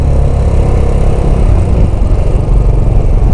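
A Royal Enfield 535 Continental GT single-cylinder motorcycle engine running loud and close, with a deep, steady thumping rumble and no speech over it.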